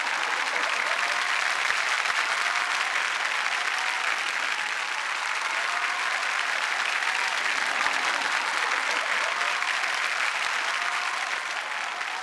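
Studio audience on a Marathi TV comedy show applauding the arrival of two guests, a dense, sustained roar of many hands clapping at once, loud and even for the whole stretch with no break.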